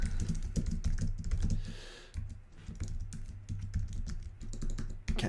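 Fast typing on a computer keyboard, with close, crisp key clicks in quick irregular bursts, briefly pausing around the middle before resuming.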